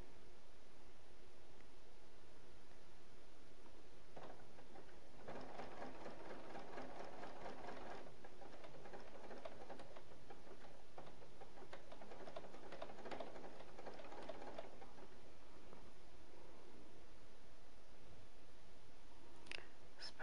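A sewing machine stitches the robe of a wedding dress, running in several bursts of steady rapid whirring with short pauses between and a quieter clicking stretch toward the end.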